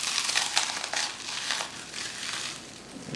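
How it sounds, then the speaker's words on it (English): A crispy chocolate chip mini square is crumpled by hand, giving close, dry crinkling and crushing crackles in a few bursts with no talking. "I just basically crumple it up and put it on top"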